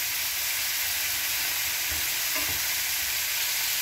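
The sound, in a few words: yellow squash and zucchini frying in a pan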